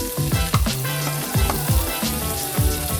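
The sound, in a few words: Impossible meat frying in butter in a pan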